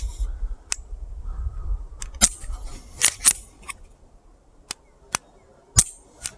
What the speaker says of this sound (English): And then we do have a very tactile and audible trigger reset.